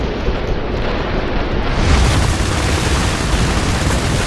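Airstrike explosions in the IS Defense war video game, a loud sustained rumbling roar of blasts with deep booming bass that swells midway and keeps churning, with no voices over it.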